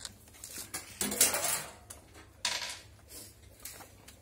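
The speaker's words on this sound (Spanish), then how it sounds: "Sacamos los tornillos de tapa." Screws are taken out of the lid of a Drean Next front-load washing machine, with metallic clanks and rattles coming in a few short bursts close by.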